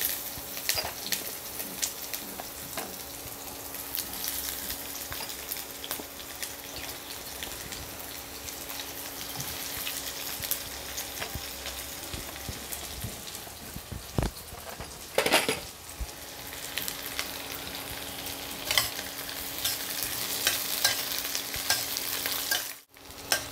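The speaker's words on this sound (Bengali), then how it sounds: "তেল গরম হয়ে গেছে, তেলের মধ্যে দিয়ে দিচ্ছি কুচনো পেঁয়াজ।" Chopped onions fry in hot oil for Punjabi bhindi chana, a steady close sizzle with occasional stirring and a brief clatter of utensils near the end.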